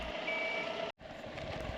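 Steady, high-pitched reversing beeps from a bus pulling in at a stop beside a riverbank, loud and close, running continuously with one brief break in the middle.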